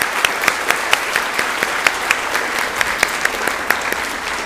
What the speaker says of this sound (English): Let's give all of the students who have across the stage today another round of applause.